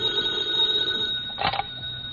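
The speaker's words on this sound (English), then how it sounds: "Then the next morning came, and he got a phone call." An old telephone bell rings loud and clear in a 1950s radio comedy broadcast, one sustained ring followed by a brief second jangle.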